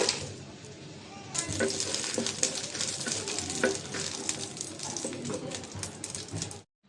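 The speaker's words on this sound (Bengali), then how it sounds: "আমি এখন মরিচ ভেজে নেব শুকনো মরিচ শুকনো মরিচগুলো ভেজে নিব" Dried red chilies fry in hot oil with a bright, crackling sizzle that starts abruptly, punctuated by stirring clicks, then cuts off at the end.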